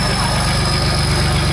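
A Land Rover engine runs with no exhaust fitted, giving a loud, raw, steady throbbing idle with a rapid low pulsing that continues throughout.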